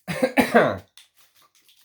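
A person coughs loudly and close to the mic in one harsh burst of several rapid hacks lasting under a second. Quiet follows, with only faint rustling.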